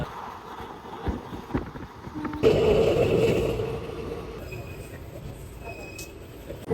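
The 13142 Teesta Torsa Express moving out after departure from New Cooch Behar, a steady rolling rumble of the carriages that swells midway and then settles into a continuous running noise, with no talk.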